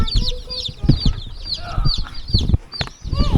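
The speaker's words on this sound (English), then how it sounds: "Good night, chickens." Newly arrived baby chicks on a homestead peep in a busy chorus of high, short chirps, with low clucking and bumping noises nearby and no clear talk.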